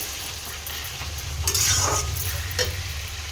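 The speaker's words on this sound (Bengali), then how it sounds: "আমি যে পেঁয়াজটা আজকে ভেজে নিচ্ছি" Onion frying in a pan makes a steady hiss under a low background hum, with a louder sizzling surge and a faint clink in the middle.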